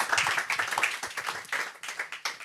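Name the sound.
audience applauding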